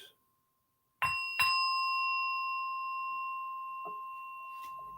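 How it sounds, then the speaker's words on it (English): A meditation bell at a Sunday service is struck twice in quick succession and left ringing, a clear tone fading slowly in a quiet room, with a few soft knocks later. "As I bring the bell for the third time, let's take a deep breath once again."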